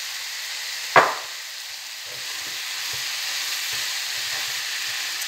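Mushrooms drop into a hot pan with a sharp clatter, then fry with a steady, close sizzling hiss that carries on to the end, with soft stirring knocks underneath.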